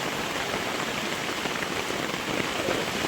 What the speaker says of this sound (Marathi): बाहेर एकदम तुफानी पाऊस पडतोय